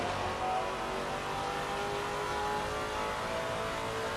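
Race car engine in Assetto Corsa Competizione, heard from the onboard view, a steady loud broadband drone held throughout with a slight swell early on, no talk over it.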